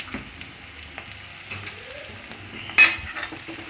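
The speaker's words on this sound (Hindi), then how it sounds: "प्याज भून जाए थोड़ा सा हमारा" Onion frying in a pan, a soft steady sizzle with scattered light clicks of stirring and one sharper metallic clatter near the end, no voices present.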